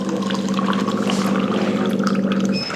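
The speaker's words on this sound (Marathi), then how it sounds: "ह्या ग्लासमध्ये पण पाणी घेणार आहे" Water from an ionizer machine pours into a glass in a continuous close stream, a steady splashing gush with a ringing filling tone that lasts nearly three seconds without speech.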